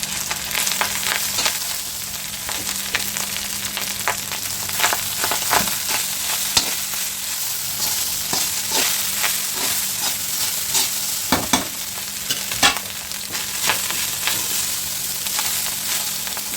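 Fried rice tossed and stirred in a hot pan for a small party batch, a steady close sizzle with repeated scraping and clinking stirs throughout, no talking.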